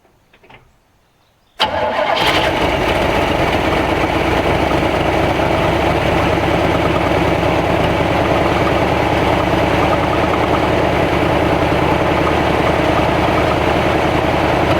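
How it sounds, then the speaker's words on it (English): A 1965 Chevrolet C10 pickup truck cranks and fires after a short quiet moment, then settles into a steady, loud, close idle that continues unbroken to the end. "see if the old thing will kick off"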